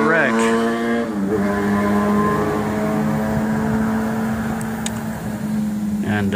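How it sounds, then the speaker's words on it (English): A short bus pulls away from a stop, its engine close and loud with a strong revving drone that rises and then holds steady, set against outdoor noise. "hopefully we'll get a good shot of the bus when it takes off here in a few minutes"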